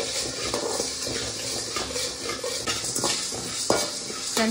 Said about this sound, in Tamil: நம்ம சேர்த்த கொத்தமல்லியும் நல்லா வறுபட்டுடுச்சு